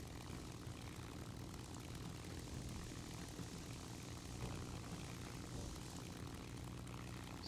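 Failing engine of a German propeller plane in the video game War Thunder, a steady low droning rumble with no pauses, moderately loud and alone.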